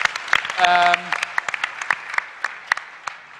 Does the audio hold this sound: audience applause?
yes